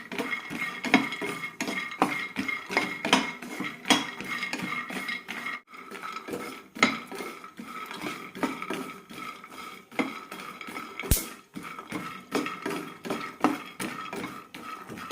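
Peanuts, walnuts and almonds dry-roasting in a pan, stirred with a utensil that clinks and scrapes steadily against the metal throughout, with a loud clack near the end; no speech.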